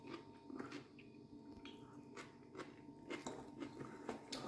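Someone eats seasoned potatoes, with quiet, close crunchy bites and chewing repeating over a faint room background.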